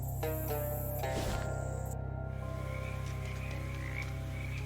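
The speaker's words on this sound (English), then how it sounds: "decent quantity of frogs." Frogs croak in a swampy area of the video game Shadows Over Loathing, a steady low croaking chorus that plays throughout over an ambient game soundscape, with a brief sharp effect partway through.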